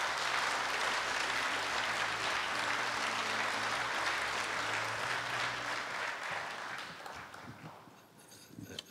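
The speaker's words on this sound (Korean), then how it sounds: "뜨거운 박수로 맞이해 주십시오" A large audience at a Korea University anniversary ceremony gives loud, sustained applause to welcome a speaker to the stage, holding steady for several seconds before tapering off near the end.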